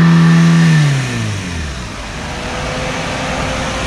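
Used car engine revving at a vehicle auction, with a loud, close rev that sweeps upward over the first second before settling into a steady running roar, with no talk.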